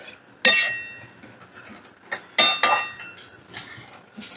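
A metal utensil clinks against a cooking pan while sugar is stirred into a sweet ripe mango dish, giving a few sharp scattered clinks and scrapes close by.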